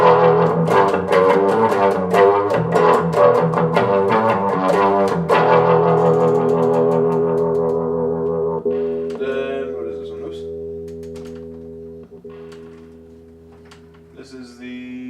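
An electric guitar played through a Fender Mustang 1 amp on the amber setting rings out with strummed, sustained chords and a light crunch, then fades into single held notes.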